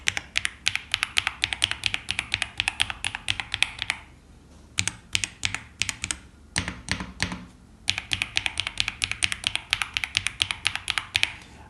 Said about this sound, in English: And this comes with the Cocoa Cream V2 linear switch, and the sound is thicker. The sound is also deeper.